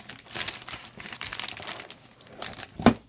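A HyperX Alloy Elite RGB wired keyboard with Cherry MX Brown switches is pulled from its box, giving a run of soft, close crinkling and rustling of packaging with one sharper crackle near the end and no speech.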